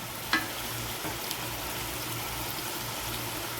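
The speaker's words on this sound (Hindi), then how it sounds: "हम उस वक्त तक फ्राई करेंगे जब तक इसका कलर नहीं चेंज हो जाता" Chicken pieces fry in a pan for chicken jalfrezi, with an even, continuous sizzle, close and soft, and an occasional light clink or stir.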